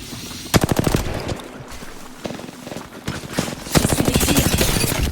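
Automatic weapon fire in the video game Apex Legends, with repeated loud bursts of rapid shots broken by short pauses and denser volleys toward the end.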